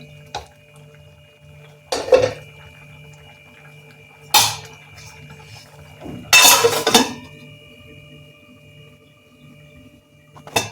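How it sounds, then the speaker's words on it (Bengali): A lid set down on a pot of rajma curry with sharp metallic clanks, three loud bursts spaced a couple of seconds apart over a low steady hum of simmering, close and without speech. "এটা আমি এখন একটু ঢাকা দিয়ে দেব, ঢাকা দিয়ে ফোটাবো"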